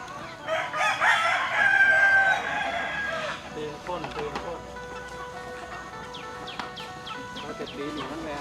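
Native Thai village chickens at feeding time on a farm, a rooster crowing loudly up close at the start, followed by scattered clucking and chirping from the flock over background noise.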